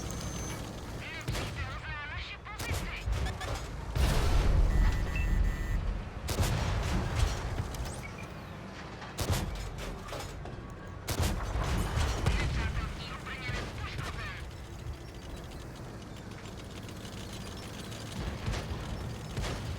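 Rapid bursts and single shots of video game gunfire crackle loudly in clustered volleys across the whole stretch, with heavy booms around the middle and a voice talking underneath at times.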